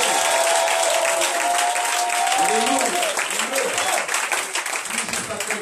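A church congregation applauds and acclaims Jesus, dense sustained clapping with cheering voices filling the room, a sung or shouted tone running beneath for the first few seconds before the applause thins slightly.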